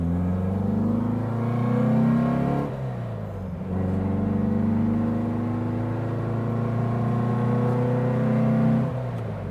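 A 1960 Porsche 356 Abarth tribute driving on the road, its engine droning steadily, then a brief dip and a drop in pitch as a gear shift lands, and the engine pulls evenly again.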